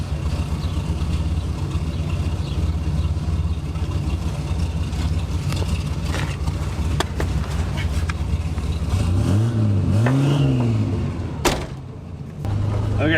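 Buick Grand National engine running steadily from inside the car while driving, a low droning hum that swells into a couple of brief rising revs near the end.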